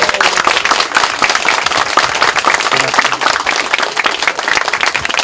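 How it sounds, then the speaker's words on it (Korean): Audience applause after an author's talk at a bookshop's second-anniversary event, a full, continuous crowd clapping close and loud, holding steady throughout with faint voices beneath. "다시 한번 철성님 큰 박수 한번 쳐주시기 바랍니다"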